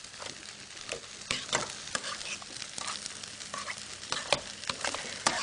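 Butter sizzling over potatoes in a pan, a steady close fizzing crackle broken by scattered louder pops and scrapes of stirring, with no voices.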